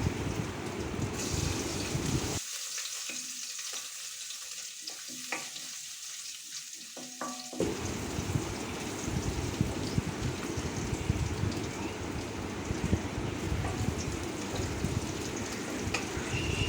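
Ginger and garlic sautéing in a pan of hot oil with fennel seeds, a steady close sizzle that briefly drops away as the pan is stirred and then resumes at full strength.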